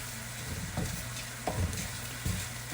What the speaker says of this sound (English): Give that a nice stir about.